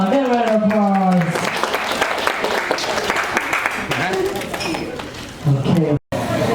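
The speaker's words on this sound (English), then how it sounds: "Give it a applause." An audience applauds and cheers for a teddy bear during a shipboard show, the clapping steady and fairly loud under a mix of voices and tonal music before it cuts off abruptly near the end.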